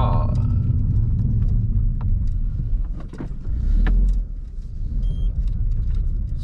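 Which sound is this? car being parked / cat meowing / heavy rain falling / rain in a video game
car being parked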